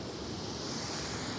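A river flows in a continuous broadband rush of water, steady and fairly close, with no voices over it.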